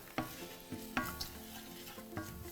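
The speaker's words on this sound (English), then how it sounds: "So give that a stir." A turmeric rice dish is stirred in a sizzling pan at an outdoor summer barbecue, with a steady frying hiss under several distinct scraping stir strokes spaced through the clip, close and clear with no talking.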